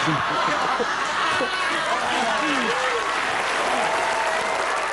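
A game-show studio audience applauds a contestant named Rahmat, a continuous wash of clapping with scattered cheers and chatter from the crowd, steady and fairly loud throughout.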